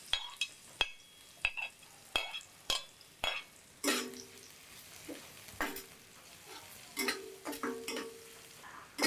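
Shallot and garlic hitting hot vegetable oil in a pan, a series of short sizzling bursts and stirring scrapes spaced unevenly, close and fairly quiet, with no talking.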